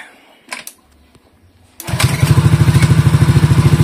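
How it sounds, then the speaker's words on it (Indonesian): A Honda Beat or Scoopy scooter engine with a bored-up cylinder cranks a few times, then catches and runs, settling into a steady, smooth, rapid putter close by. "Oke, kita cobain hidupin dulu motornya."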